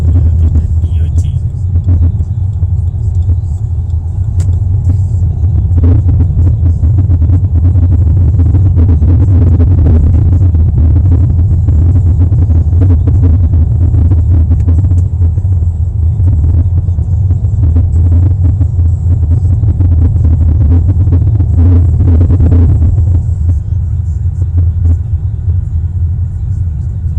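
A car driving along the highway from OR Tambo international airport to Pretoria, with a loud, steady low road rumble and engine drone from inside the cabin, continuous throughout.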